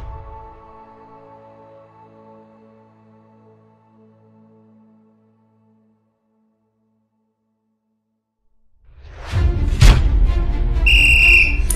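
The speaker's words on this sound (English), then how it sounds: "When I hear the sound of that whistle," A coach's whistle sounds in a short, loud, shrill burst near the end, following a long stretch of soft sustained tones and then silence.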